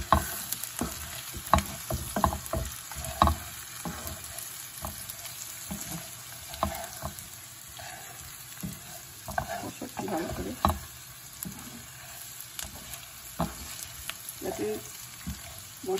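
Ground spices with turmeric dry-frying in a pan for a Bengali fish head and rice dish, a steady crackling sizzle broken by scraping stirs, close and alone without talk.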